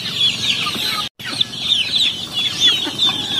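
Broiler chickens cluck on a native chicken farm, with close, repeated, chattering calls that continue steadily apart from a brief silent dropout.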